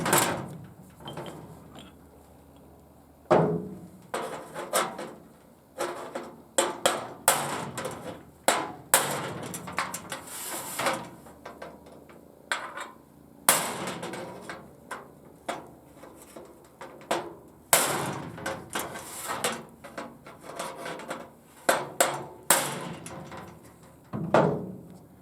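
A hammer strikes a chisel to straighten bent metal on a Triumph TR car. Sharp, loud metallic blows come in irregular bursts and clusters, with quiet pauses in between.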